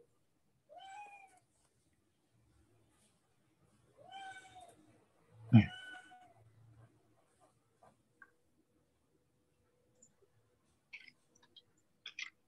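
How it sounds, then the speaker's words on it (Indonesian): A cat meows while climbing up, three separate drawn-out meows a few seconds apart in an otherwise quiet room, followed by a few faint clicks and taps. "Wah, ada kucing naik atas."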